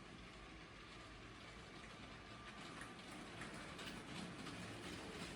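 LEGO Disney train running around a tabletop layout, its locomotive rods turning, gives a steady, close, even rolling rumble and whir that continues without a break.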